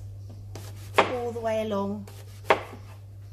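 A knife chops leek on a board into half moons in two sharp, separate strikes, with a person speaking softly between them.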